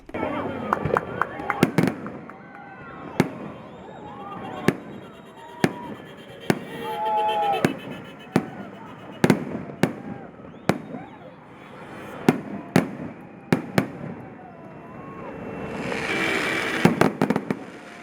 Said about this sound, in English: The fireworks lasted 3 minutes.